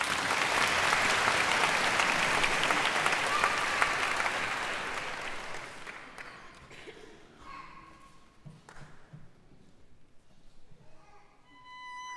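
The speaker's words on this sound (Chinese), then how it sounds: "掌声欢迎" A concert audience applauds in a dense sustained burst that fades out, followed by scattered thumps and faint instrument tones as a classical performance of Rimsky-Korsakov's Scheherazade gets under way.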